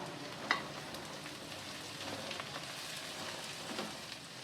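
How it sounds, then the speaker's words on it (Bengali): Capsicum stir-fried in a pan for egg-chicken glass noodles gives a soft, even sizzle like light rain, with one brief utensil tap near the start. "ক্যাপসিকামটাও এখন দিয়ে দেব এটাও দিয়ে একটু নেড়ে নেবো"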